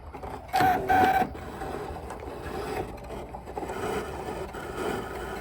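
A vinyl cutting machine cuts a multicolour design from layered vinyl on its mat, giving a quiet mechanical whir and ratcheting movement with a brief louder burst near the start, then steady low running.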